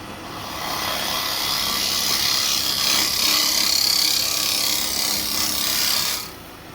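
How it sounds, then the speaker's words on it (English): A woodturning scraper cuts into spinning wood on a lathe, peeling off shavings in a steady, close rasping scrape that holds for about six seconds before cutting off abruptly. "Although it's called a scraper, it is actually cutting and creating shavings."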